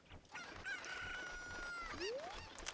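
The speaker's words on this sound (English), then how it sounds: "Don't attack the chickens." Chicken calls from Legend of Zelda: Ocarina of Time: a drawn-out, crowing-like cry holds steady, then a rising squawk follows, all over a continuous game-music background.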